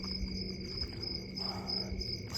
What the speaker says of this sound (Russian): сверчки сверчат? Как они называются? Здесь не цикады, это что-то другое